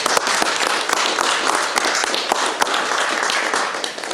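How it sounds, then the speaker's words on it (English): An audience claps in a round of applause at the end of a talk at a science café event. The sound is dense and even, with sharp individual claps standing out, and no one speaks. "If we could just give her a round of applause."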